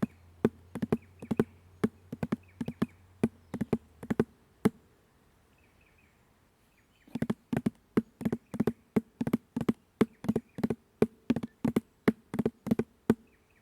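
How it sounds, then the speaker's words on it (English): A handpan double drag tap is played slowly with short, bright metallic strikes in grouped bursts. The clusters repeat steadily, stop for a quiet gap of about three seconds, and then resume at the same even pace. "let's put this together to form the double drag tap, slow and steady"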